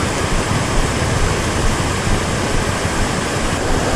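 Water rushes along the Abo-Abo River in Bataan as a loud, constant, broadband roar with no breaks and no voices.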